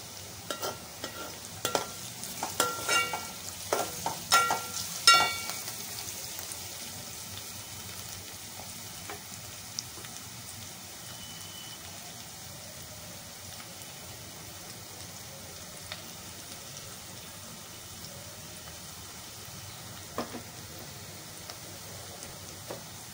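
Onions fry in a pan, a soft continuous sizzle with crackles, and a spoon scrapes and stirs in the first few seconds before the frying settles into a quieter hiss.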